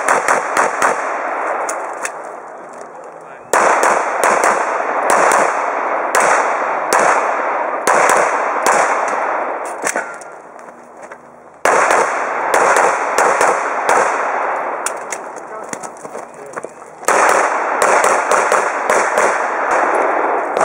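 Gunfire at an outdoor shooting range, sharp loud shots in quick irregular bursts and volleys, some rapid strings like automatic fire, with short pauses between groups.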